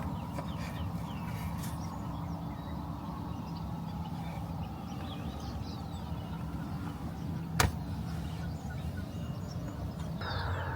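Morning birdsong drifts in from outside while camping near the coast in New Zealand, with scattered chirps and calls over a low background hum and one sharp click partway through.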